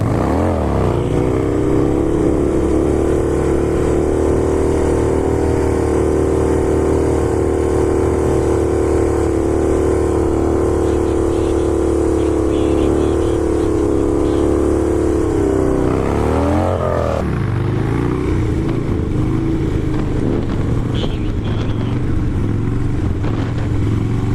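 A Harley-Davidson motorcycle engine revs hard and steadily through a wheelie, loud and close, with a sustained roar that shifts in pitch near the end as the throttle changes. No one talks.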